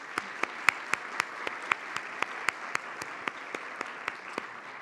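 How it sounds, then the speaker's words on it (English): An audience at the 2023 Champions for Children celebration gives a round of applause, a steady bed of clapping with sharp individual claps standing out at a regular pace throughout, moderately loud with no talking. "Let's give them all a round of applause"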